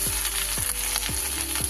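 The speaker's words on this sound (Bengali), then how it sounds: "ফোড়নটা হয়ে গেছে, ওর মধ্যে সামান্য একটু হলুদ দিয়ে দিলাম, না হলে ছেড়ে তেলটা। তার উপরে দিয়ে দিলাম একটু গ্রেট করা আদা।" Turmeric and grated ginger sizzling in hot oil for a Bengali tempering, a dense steady crackle with a few soft stirring scrapes, close and alone.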